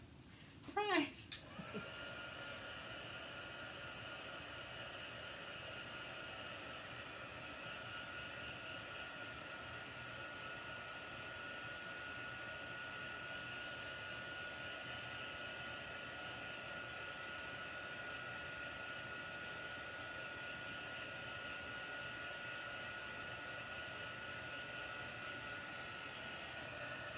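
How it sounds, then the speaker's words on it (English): A heat tool blows hot air over a card-making embellishment, a steady, fairly loud whooshing fan roar that starts after a brief clatter and runs continuously without pause. "this one looks a little funky, so let's get the heat tool"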